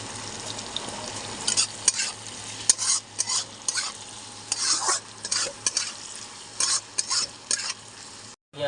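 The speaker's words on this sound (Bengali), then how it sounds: "পেঁয়াজটা দিকে ভাজা হচ্ছে বন্ধুরা" Onions fry with salt in a pan under a steady sizzle, while a spoon stirs and scrapes in repeated short bursts, close and clear.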